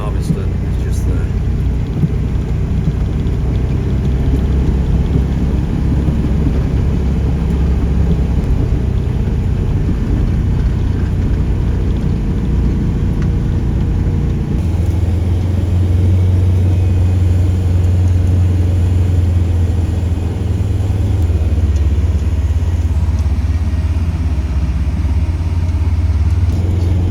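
Sugar beet harvester and its trailer working in a field during the harvest, a loud continuous low machinery drone and rumble that grows heavier partway through, with wind-like noise over it.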